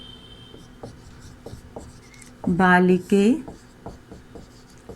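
Chalk or a marker scratches on a board during a Sanskrit class lesson, a series of close, light, rhythmic strokes and taps, briefly interrupted by a teacher's spoken word in the middle.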